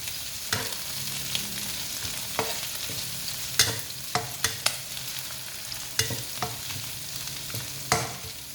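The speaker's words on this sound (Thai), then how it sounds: "เราก็ใส่ลงไปผัดกับหมูสามชั้นของเรานะคะเคี่ยวให้หอมเลยค่ะ" Chili and pork belly stir-fried in a pan for a spicy mee sua dish, a steady sizzle with sharp utensil scrapes and clacks at irregular intervals, close and alone.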